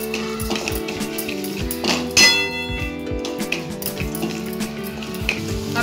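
Dry fruits roasting in a pan for basundi, a steady sizzle with repeated metallic clinks and scrapes of a spoon against the pan, plus a brighter clang partway through, all close and with no voices.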